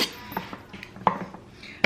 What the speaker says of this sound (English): the longest part of this homemade salsa is scraping it out of the blender